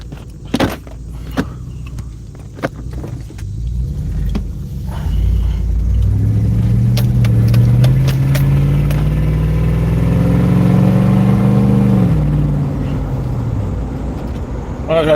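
Car engine with its exhaust ripped off, rumbling and revving up to a loud, rising roar before easing down again, preceded by a few sharp clicks and knocks, with people talking faintly.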